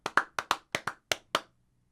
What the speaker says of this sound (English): Do you want me to substitute the claps that were happening?